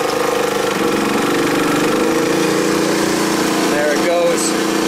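Energizer eZV3200P portable inverter generator engine revving back up from a low idle, a loud continuous drone that climbs in pitch and stays steady.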